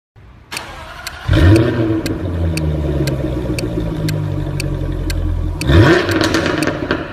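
A Jaguar Project 8 engine fires up with a loud bark, then holds a deep, rumbling idle with regular ticking, before a second sharp rev flares near the end.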